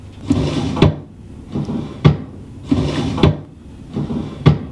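Four hollow wooden knocks and rattles from a shelf, each a quick pair of thuds, spaced evenly, close and alone.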